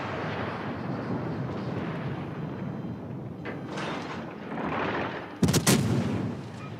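Warship naval guns firing in a naval combat video game while the ship lays a smoke screen at reduced speed: a low rumbling ambience, then a sudden sharp heavy blast near the end with a rolling decay.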